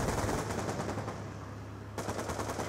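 Rapid video game shotgun fire, a dense run of shots with a brief lull near the middle before the firing picks up again.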